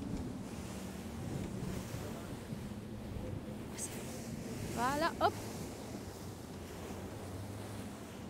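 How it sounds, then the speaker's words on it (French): Open-sea waves churned up by a large fleet of boats wash and rumble steadily with wind buffeting the microphone, while a brief voice and a short whistling sound break in midway. "ce sont les vagues de l'armada de bateaux."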